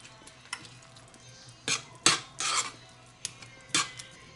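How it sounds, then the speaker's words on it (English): Heated beans being mashed in a pot on the stove, scattered metal scrapes and knocks of a utensil against the pot with a soft squelch, close and faint, no talk. "once the beans start heating up, I like to mash some of them"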